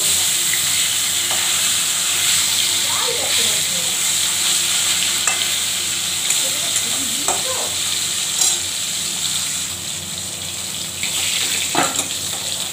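Katla fish sizzles steadily in hot oil, a constant close crackling hiss broken by a few soft scrapes and knocks as the pieces are turned in the pan.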